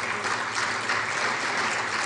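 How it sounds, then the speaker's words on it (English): An audience at a talk applauds in a short, steady burst of many hands clapping together at moderate loudness, with no voices over it. "you might be clapping"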